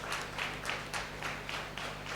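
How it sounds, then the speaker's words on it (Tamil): An audience at a college media event claps in steady applause, a moderately loud run of clapping bursts with no talk over it. "கைதட்டுவோம்."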